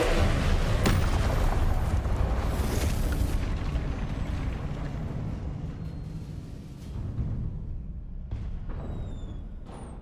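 Confringo fire spell explosion in the Hogwarts Legacy video game, a loud booming blast with a rumbling, crackling tail that fades over several seconds, followed by smaller bursts.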